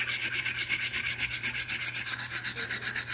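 The bevel of a Gold Dollar 208 straight razor being ground to remove metal, heard as steady back-and-forth rubbing strokes at a brisk even rhythm, close and alone with no voices.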